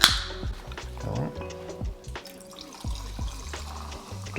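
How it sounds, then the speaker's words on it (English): Soda water being poured into a cocktail glass to top off a drink, with splashing, dripping and faint fizz alongside light clinks, close and moderately quiet. "we're just gonna top it off with some soda water"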